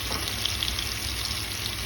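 Water splashes into okra masala frying in a pan, producing a steady broadband sizzle and hiss with a faint low bubbling pulse and no talking.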